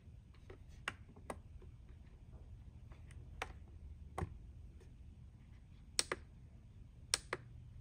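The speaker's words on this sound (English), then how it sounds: "Alright, use the keyboard. Press enter." Computer keyboard keys pressed during an arcade cabinet software install, a sparse run of crisp, quiet clicks spaced irregularly over a low steady hum, close but faint.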